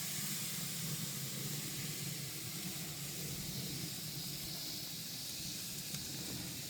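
Smoked pork ribs sizzle steadily as they sear on a grill over oak, a faint continuous hiss heard without voices.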